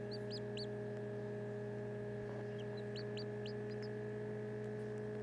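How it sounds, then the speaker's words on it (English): Faint, high peeping chirps come in short bursts over a steady electrical hum, quiet and close, from a newly hatching chick still in its shell. "Very quiet chirping in there."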